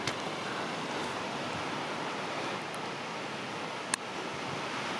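A waterfall on a creek along a backpacking trail near Bryce Lake, a steady broadband roar of rushing, falling water close by, continuous and even with a faint wind bump.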